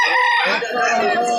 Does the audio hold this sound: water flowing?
no